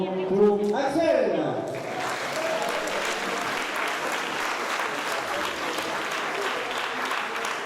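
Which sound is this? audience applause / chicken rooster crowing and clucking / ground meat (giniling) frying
audience applause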